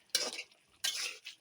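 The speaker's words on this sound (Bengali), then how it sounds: "এখন আমি তরকারিটা নাড়া দিয়ে দিব।" A spoon scrapes twice through papaya curry with bata fish in a pan. The two short stirs are close and fairly quiet, with a pause between them.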